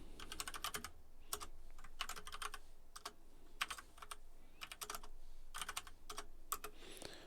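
Code is typed on a computer keyboard in quick bursts of clicky keystrokes separated by short pauses, close and fairly quiet, with no talk.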